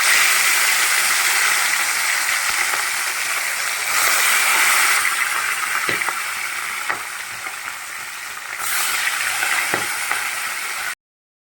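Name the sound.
fish pieces frying in hot oil in a pan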